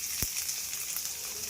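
Garlic, ginger and finely chopped onion hit hot oil in a wok, giving a steady, close sizzle of frying with one brief low thump near the start.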